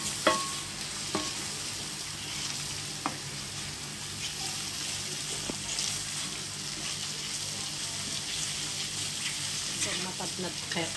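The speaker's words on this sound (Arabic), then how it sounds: "طبنا الدقيق مع الزبده، غنضيف الحليب بشويه" Flour cooking in melted butter for a Moroccan pastitsio-style béchamel, a steady sizzling hiss with scattered clicks of a spoon stirring through the pan, milk about to be poured in; no talking.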